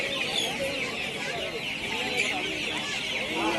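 Several kinds of chickens cluck steadily at a crowded poultry market in Pebbair, the calls overlapping into a constant din with people talking in the background.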